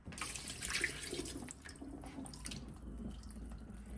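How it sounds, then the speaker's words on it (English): Tap water pours steadily into a cooking pot, readied for seafood stew peas, a continuous close hiss and splash that is strongest early on and eases into a lower running flow. "So we'll get some water in the pot."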